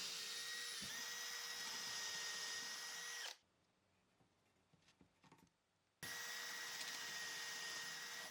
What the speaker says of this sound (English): You got a drill bit here with a drill stop. And then you just basically drill your holes